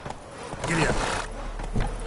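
A horse in The Witcher 3 being spurred from a slow walk into a run, with hoof clatter and a brief whinny-like burst over a steady low rumble, close and fairly loud.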